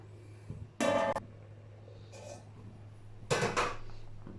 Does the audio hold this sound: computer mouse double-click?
no